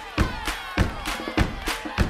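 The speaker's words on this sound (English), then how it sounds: "Now let's clap together." A group of children claps hands together in a class setting, a steady run of about eight sharp claps with a lively roomy crowd feel, roughly three per second.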